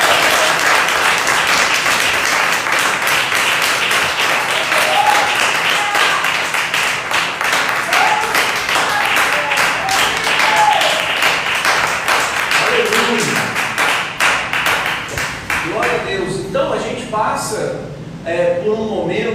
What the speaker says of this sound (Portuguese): as palmas louvam a Deus